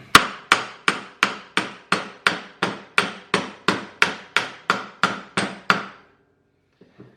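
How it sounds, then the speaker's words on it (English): A hammer strikes a hitch ball onto a metal shank about a dozen times in a steady, even rhythm, loud and close, then stops, leaving near silence. "it might come off without a hammer, but it's obviously easier just to whack it"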